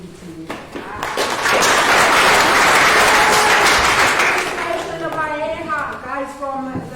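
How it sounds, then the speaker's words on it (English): An audience bursts into loud applause at an HIV health talk, swelling to a dense clapping roar that fades after a few seconds as a voice begins speaking over it. "another round of applause for her"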